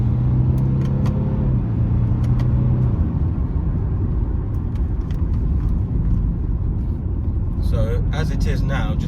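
A 2016 Maserati Ghibli with a 3.0-litre V6 diesel engine, driven in manual mode, rumbles steadily as it moves up and down through the gears. Someone talks over the engine throughout.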